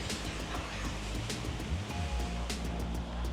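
Waterfall feature on the Las Vegas Strip, a continuous broadband rush of flowing, splashing water that stays steady and fairly close, with faint background activity.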